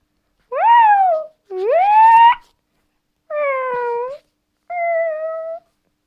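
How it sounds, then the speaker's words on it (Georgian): Cat meowing in the Melon Sandbox video game: four clear, separate meows, the first two rising and drawn out, the last two flatter and shorter, loud against silence. "კატუნია, რა თქმა უნდა, კატუნების გარეშე არ შეიძლება"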